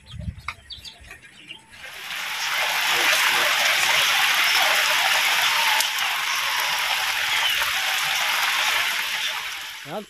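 Steady rain falls in a rural provincial setting, a dense continuous hiss that starts abruptly after a couple of seconds of quieter ambience with brief bird calls and then holds loud and even for the rest of the clip.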